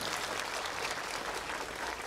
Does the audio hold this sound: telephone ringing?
no